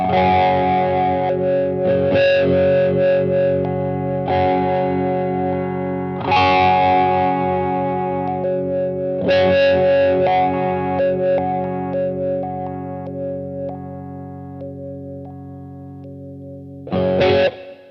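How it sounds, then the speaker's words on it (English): Distorted electric guitar chords strummed in several bursts through a Dunlop Crybaby Q Zone fixed wah pedal, each ringing out with a swept, filtered tone, loud and close with no talking. "flick between them with the knob at 12 so you can hear which different frequencies"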